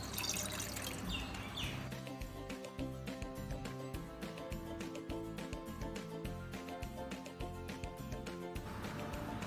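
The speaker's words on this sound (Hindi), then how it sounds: "अब हम पैन में डालेंगे पानी।" Water poured into a cooking pan for boiling noodles, a continuous splashing, trickling stream with dense irregular drips, close and steady throughout with no talk.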